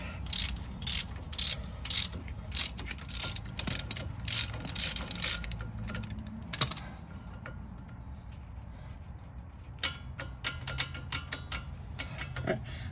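A wrench works a tight bolt loose on the front wheel bearing of a Mazda CX-5 with repeated rhythmic ratcheting clicks and metallic scraping, close up, then a quieter stretch before a few more clicks.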